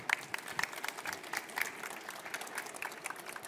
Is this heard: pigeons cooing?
no